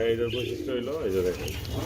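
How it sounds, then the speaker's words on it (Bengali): A Kaldom pigeon coos nearby in a low, wavering, repeated coo, with people talking around it. "কালদম কবুতর কতটা দেখতে পাচ্ছেন"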